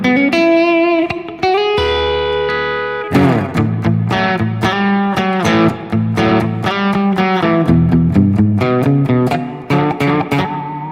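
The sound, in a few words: electric guitar through effects loop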